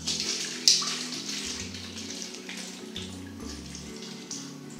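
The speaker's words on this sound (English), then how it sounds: "So I'm going to strain out all of the liquid." Liquid from macerated apple and rhubarb poured through a strainer, a steady close trickling and splashing stream with a brief sharper splash near the start, running continuously without speech.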